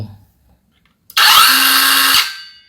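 A loud OSUKA cordless circular saw whirs at high speed setting for about a second, starting abruptly after near silence and then winding down.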